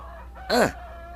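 A single rooster crows once, loud and close, a short rising-and-falling call over quiet background hum.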